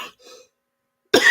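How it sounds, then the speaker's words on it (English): A man coughs, with two faint rough bursts at first, a short silence, then one loud harsh cough close to the microphone. "this cough is killing me"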